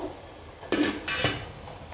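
A metal idiyappam steamer stand is lowered into a pot, clanking twice in quick succession, a sharp clatter close by, followed by quiet.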